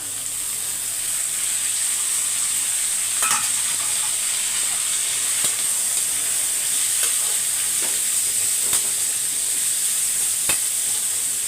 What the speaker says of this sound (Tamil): பூண்டு பாதி வதங்கினோன்னே பீட்ரூட்டை சேர்த்துக்கலாம்